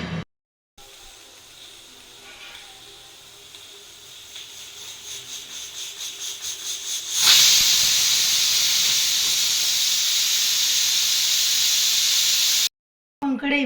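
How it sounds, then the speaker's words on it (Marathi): A pressure cooker on the stove, holding black val beans and water, hisses softly with faint rhythmic puffs, then bursts into a loud, sustained whistle of escaping steam that runs for several seconds before cutting off. "आता याच्या शिट्ट्या करून घेऊयात"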